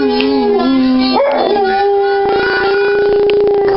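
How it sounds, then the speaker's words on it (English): A dog howls in long wavering, rising and falling tones, close and loud, with a human voice howling along beside it for a few seconds. "Good howling. Good boy."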